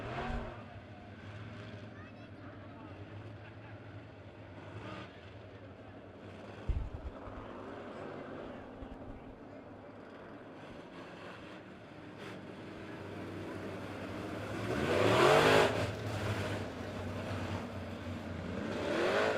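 Modified race cars run a heat race at a dirt speedway, a distant engine drone with a rising roar as cars sweep past, heard under the announcer's voice over the public address.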